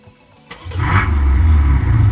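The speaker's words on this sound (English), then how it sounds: "So this is the Thor exhaust resonator kit. It can be programmed with many different sounds" VW T7 Transporter with a Thor exhaust resonator kit producing a V8-style sound, silence broken by a sudden start-up that settles into a deep, loud, steady burble.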